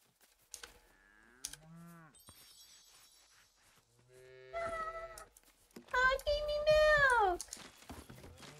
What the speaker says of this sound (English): Oh, the cow.